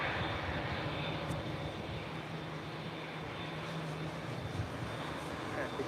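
Airliner engines roaring at Los Angeles International Airport as a Turkish Airlines Dreamliner waits to depart, a steady broad rumble heard from a distance throughout.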